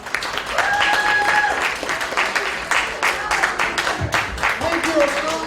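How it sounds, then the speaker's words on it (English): Audience applause following an introduction at a Bronx community event, steady clapping from a crowd lasting several seconds with a voice briefly heard over it. "Ladies and gentlemen, please a round of applause for Mohammed N. Mujumder."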